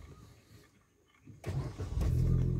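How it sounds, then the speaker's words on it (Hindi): A Maruti Suzuki Baleno Alpha engine cranks and catches, rising abruptly from near quiet into a steady, close idle rumble during a driving lesson. "स्टार्ट कर गाड़ी।"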